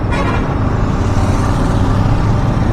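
Heavy road traffic with lorries rolling past, a loud, steady engine and tyre rumble filling the whole stretch without a break, heard from a motorcycle on the move.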